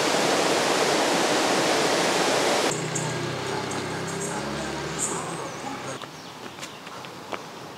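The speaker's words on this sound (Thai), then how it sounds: "ก็จะเป็นลำธารไหลผ่านถนนไป" Water from a forest stream flowing across a dirt road near a woodland home in Lampang, Thailand, first a loud steady rush up close, then a softer running wash with insects buzzing and faint voices nearby.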